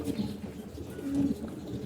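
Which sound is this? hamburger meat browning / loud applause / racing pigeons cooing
racing pigeons cooing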